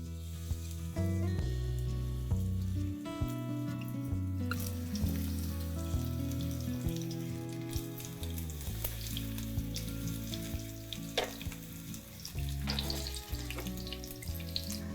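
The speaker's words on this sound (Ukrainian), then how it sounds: "розігріли масло і викладаємо тісто ложечкою, як на оладки" Onion fritter batter spooned into hot oil sizzles and fries, a steady crackling hiss heard faintly beneath prominent background music.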